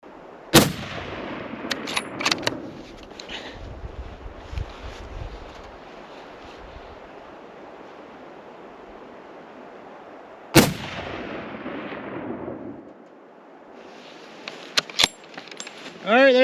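Long-range hunting rifle fired outdoors at a target several hundred yards away: two sharp, loud shots spaced well apart, each echoing off into the distance, with wind noise and faint handling clatter between them.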